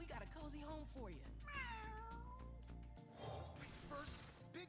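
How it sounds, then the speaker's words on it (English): A cat meows in the card game Legends of Runeterra, several stylized rising and falling meows over game music and effects, with someone talking in between. "Come on, cat. We got a cozy home for you."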